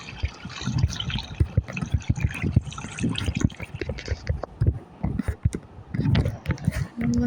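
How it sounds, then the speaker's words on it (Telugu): Water poured steadily onto garden plants from a container, a continuous splashing trickle with uneven surges, heard against busy background noise. "ఇలా వెళ్తే ఇలాగే వాటర్ వేస్తున్నా."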